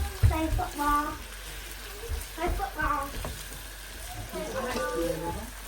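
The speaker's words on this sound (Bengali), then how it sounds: "কলিজা রান্না করার দায়িত্ব পড়েছে আমার কাটাকাটি করে একটু ফ্রাই করে নিচ্ছি" Boiled beef liver frying in a pan, a low sizzle with occasional stirring scrapes running steadily beneath a person talking throughout.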